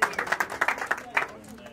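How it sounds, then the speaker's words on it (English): Guests at a Congolese traditional wedding clap for the couple in short, uneven bursts of scattered claps that thin out and fade over a couple of seconds. "Let's clap for them."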